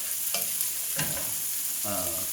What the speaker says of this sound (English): turn this down to medium because I just want the vegetables to sweat and soften